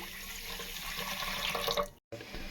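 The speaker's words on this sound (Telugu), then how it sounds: "వాటర్ పోసుకుందాం" Water pours from a vessel onto sugar in a cooking pot for a pumpkin petha sweet, a steady splashing stream that cuts out abruptly for a moment near the end, then resumes faintly.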